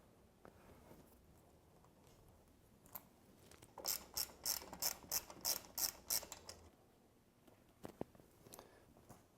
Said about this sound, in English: we can then unbolt the speedo clamp and set it aside to gain access to these lower riser bolts